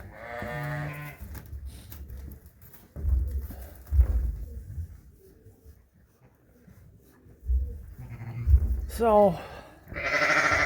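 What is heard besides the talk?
lamb bleating in a pen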